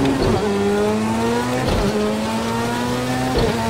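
A video game race car with worn-out rear tyres runs at a steady, loud engine drone, with tonal revs wavering and brief squealing slides repeating under the constant roar.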